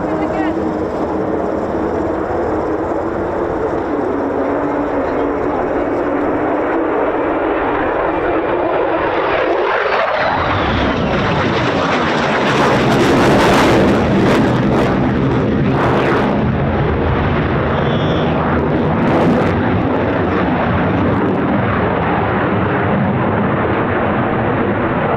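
Low-flying US Air Force F-15 or F-35 fighter jet passing overhead at RAF Lakenheath, a loud, building engine roar that swells to a harsh, crackling peak and sustains as it passes close by.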